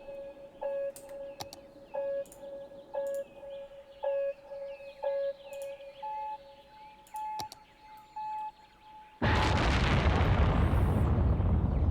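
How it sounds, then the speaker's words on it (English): A rocket launch in Cities: Skylines: a steady series of electronic countdown beeps, one roughly every second, builds to liftoff, when a loud, continuous roaring rumble of the engines suddenly takes over. "it is the time to launch our rocket and take our glory into space"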